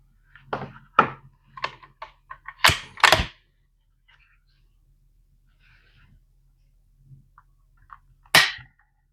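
Trigger of a Bergara B14 HMR rifle in 6.5 Creedmoor dry-fired on an empty chamber during trigger-weight checks: several sharp, close clicks and snaps, the louder ones in a pair, separated by quiet gaps.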